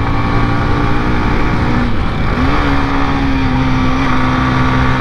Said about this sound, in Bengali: গিয়ার ডাউন করে দিছি